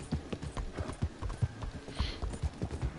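Hooves of a young, worn-out horse clip-clop in a steady, close rhythm of sharp thuds, loud and distinct with no talk over them.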